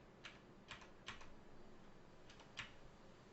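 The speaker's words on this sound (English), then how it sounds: "Sorry if you can hear me just spam my keyboard." Rapid keystrokes on a computer keyboard: a handful of sharp clicks in uneven bursts, some doubled, close up over a steady low background hiss.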